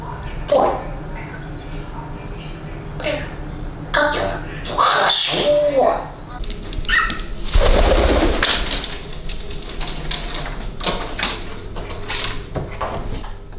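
A talking pet parrot squawks, chatters and makes short calls in a home, near and fairly loud, with a burst of noise midway and people talking now and then.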